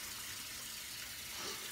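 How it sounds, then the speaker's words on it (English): A shaving brush being rinsed under a running tap: a steady, faint hiss of flowing water with no pauses, heard alone. "Let me just rinse out this brush a little bit"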